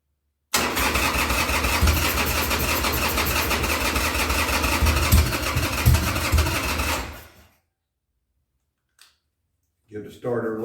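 A 2000 Harley-Davidson Sportster 1200C, restarted after six years, cranks loudly and steadily on its starter for about seven seconds without catching, then falls silent; a brief click and a short burst of voices follow near the end.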